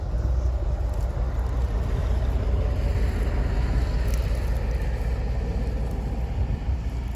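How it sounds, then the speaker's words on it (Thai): A tourist bus engine drones with a continuous low rumble steadily nearby, with no talking over it. "เสียงรถบัสนักท่องเที่ยวครับ"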